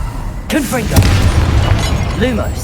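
A sharp explosive burst from the Confringo fire spell in Hogwarts Legacy, a sudden loud bang followed by a crackling, rumbling tail, with a voice speaking over it at the start and near the end.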